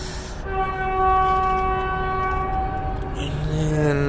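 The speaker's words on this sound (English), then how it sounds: "There come the train." A TEXRail commuter train pulls in, its horn sounding a long, loud chord of steady tones for several seconds over continuous rumbling rail noise, with a lower horn note rising near the end.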